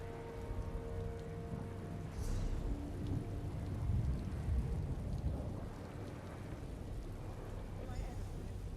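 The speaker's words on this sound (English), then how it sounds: "Inky black rain." Steady rain hisses across the whole stretch with a deep low rumble of thunder rising near the middle, set in the Elder Scrolls Online game world under inky black skies; voices and game audio sit faintly in the mix.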